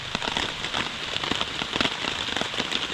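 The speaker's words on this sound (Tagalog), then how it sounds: "Medyo nakakapagod kasi nagmamadali dahil umuulan." Rain pattering steadily onto tents and a canopy at a campsite at Puerto Salingkapo, dense crackling drops close by with no voices.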